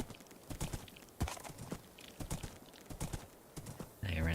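Horse hooves clip-clopping in the Minecraft video game, an irregular series of sharp clops at close range, ending in a brief burst of other game noise.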